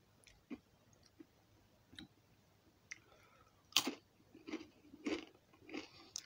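Someone bites and chews crunchy Takis Fuego lime rolled tortilla chips, with sharp, close crunches that start sparse and grow more frequent and louder toward the end, against a quiet room.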